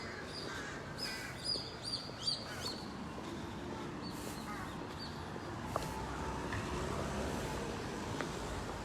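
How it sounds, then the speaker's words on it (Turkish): Faint bird chirps on an empty street in Lüleburgaz on an April evening, small scattered tweets over a steady background hum of distant traffic and wind. "Evet ortam kuşları kaldı."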